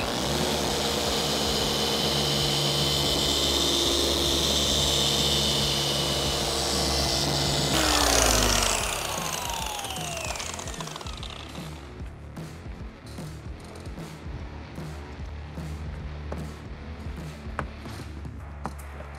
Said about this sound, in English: for polishing, I like to work around speed 5 and have a little bit of a faster arm speed